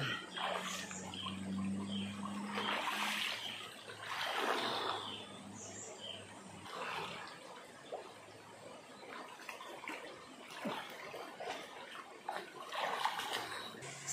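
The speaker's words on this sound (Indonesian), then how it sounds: "Wow, kita mandi sungai" People bathing in a river at Lamteuba, with steady flowing water and splashing throughout, voices and shouts faintly mixed in and a low hum in the background.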